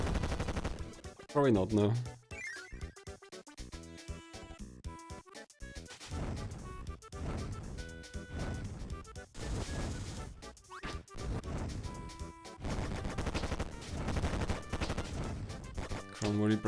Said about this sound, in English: Kirby cannons aren't usually this fast, are they?